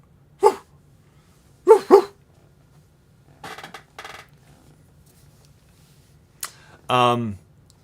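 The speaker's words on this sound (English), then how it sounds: "the dog upstairs, and you do hear some barking" A dog upstairs barks several times in short, separated bursts, fairly close, with quiet pauses between them and a longer, strained bark at the end.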